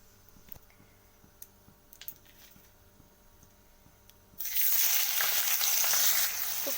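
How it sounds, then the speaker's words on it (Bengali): Chopped onion dropped into hot oil in a karai, with nigella seeds already tempering, bursts into a loud, steady sizzle after a few quiet seconds of faint clicks and ticks, staying close and continuous to the end. "তো এরপর আমি কুচিয়ে রাখা পেঁয়াজটাকে দিয়ে দেব।"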